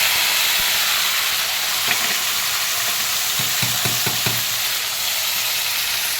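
Tomatoes and ginger-garlic paste frying in a hot pan for a tomato onion curry, a steady loud sizzle with a few brief stirring clicks partway through.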